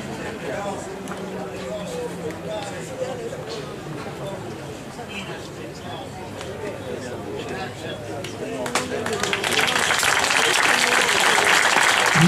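Audience applause at an end-of-season awards ceremony, a steady wash of clapping under crowd babble that swells louder and denser toward the end.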